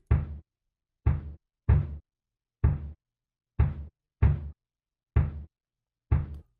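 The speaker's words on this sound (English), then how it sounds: "Now I got a clean snare and kick sound." Eight dry, punchy sampled drum hits, a deep thudding kick and a crisp snare, sound alone in a loose rhythm with silence between each hit.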